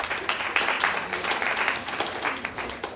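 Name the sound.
audience applauding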